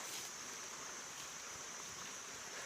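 Stream water rushing steadily past a village house, a constant broad hiss of flowing water at moderate distance with no voices.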